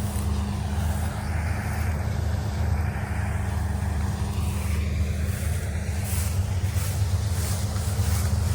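An air-conditioned combine harvester runs steadily in a field at dusk, a continuous loud low engine drone with broadband mechanical rumble and no pauses throughout.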